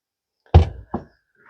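A Land Rover Defender door with a newly fitted seal shuts with a close, heavy thud, followed a moment later by a second softer knock.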